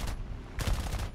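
Heavy machine gun fire in the video game War Thunder crackles in a dense, rapid burst, loud and close, with booming low-end thumps.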